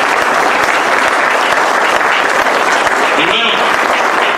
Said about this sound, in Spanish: ¿Le puedo dar un aplauso a Dios?